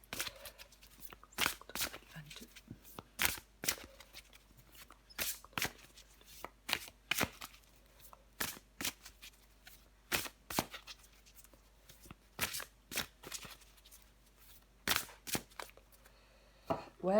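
Tarot cards being shuffled and handled up close, a series of sharp, brief riffling snaps scattered irregularly over a quiet background, with no talking.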